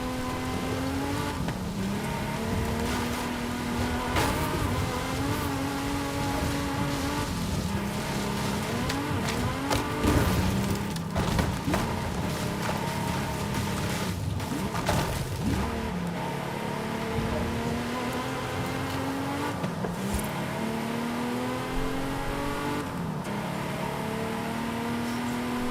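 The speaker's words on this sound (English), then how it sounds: "Lubia gets into a Lambo Murcielago." A Lamborghini Murcielago engine drones continuously in a racing video game, its pitch rising and falling through gear changes over a steady background of game sound.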